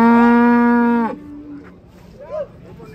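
A rare cow at a cattle market moos once, loud and close, a long deep drawn-out low that cuts off abruptly, followed by faint background murmur.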